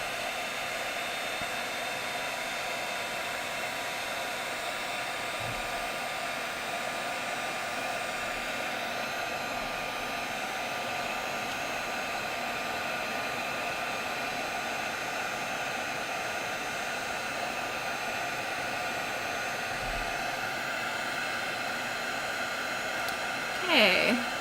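Heat tool heating embossing powder, blowing as a steady, even hiss-and-whir that runs nearly unbroken for the whole stretch at moderate volume.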